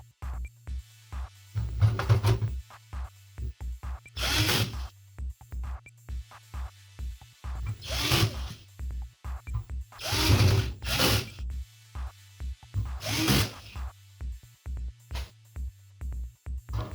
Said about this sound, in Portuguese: São 4 parafusos. Eu vou parafusar agora.